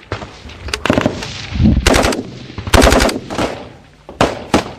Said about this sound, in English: Taliban grenades fly overhead, but by now their positions are under intense fire.